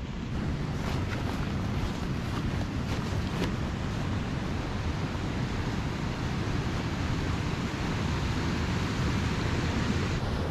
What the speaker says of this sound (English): The water's too loud